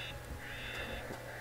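Crows caw repeatedly in the Two Worlds fantasy role-playing game, harsh calls rising over a steady ambient game background with no talking.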